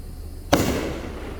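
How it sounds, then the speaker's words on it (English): A single firework bursts at a Juneteenth celebration fireworks show, one sharp loud boom that rolls away into a fading rumble. "we've got a fireworks show"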